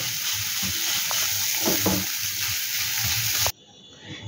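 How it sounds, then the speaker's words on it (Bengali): Mustard stuffing for stuffed ash gourd fries in a pan with a loud, steady sizzle, with a few scraping stirs, before the sound cuts to a quieter background. "এবার এটাকে একটু ভালো করেই ভাজা ভাজা করতে হবে।"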